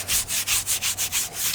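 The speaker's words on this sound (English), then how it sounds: "Just gonna scrub this a bit." Brush scrubbing a car tire coated with tire cleaner, a steady series of about eight rhythmic back-and-forth strokes, close and fairly loud, with no talking.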